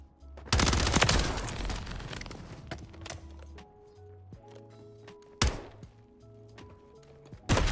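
SMG gunfire in a shooter game: a loud rapid burst opens, then tones and a few sharp single shots follow, including a strong crack partway through and another at the end, with no talking.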